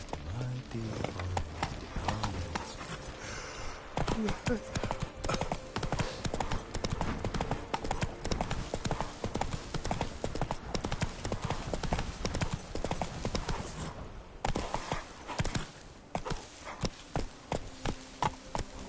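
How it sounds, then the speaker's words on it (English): Horse hooves clip-clopping at a gallop in The Witcher video game, a fast continuous rhythm of hoofbeats alongside game ambience and occasional voice sounds. "Run, Roach."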